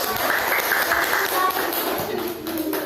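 A classroom group claps hands together, a brief patter of applause mixed with children's voices and chatter.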